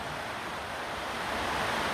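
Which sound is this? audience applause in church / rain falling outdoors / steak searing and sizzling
rain falling outdoors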